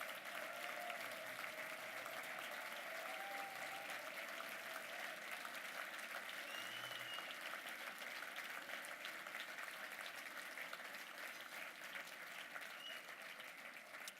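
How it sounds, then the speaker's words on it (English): An audience at a university gala gives a long, even round of applause, many hands clapping steadily and faintly from a distance with no pauses. "please stand up and let's give them all a round of applause"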